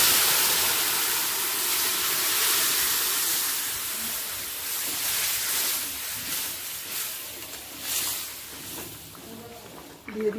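Boiled vegetables tipped into hot spices in a pan, giving a steady broadband sizzle and hiss that stays loud throughout, with a few brief surges near the end, while cooking Katla fish curry with fresh winter vegetables.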